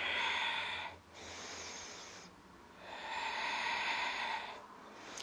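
Slow, deep breathing during a yoga flow: two long, close, breathy exhalations filling most of the span, separated by a quieter pause, with no talking.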